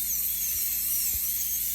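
A dental diamond bur drills steadily through a porcelain-fused-to-metal crown on a lower left first molar during root canal access, a continuous high-pitched whine held at even loudness throughout, close and alone with no talk.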